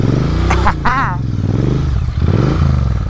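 Royal Enfield Interceptor 650 motorcycle on the road, its loud engine droning and shifting pitch up and down, with a brief wavering voice-like tone and rushing wind, close to the rider.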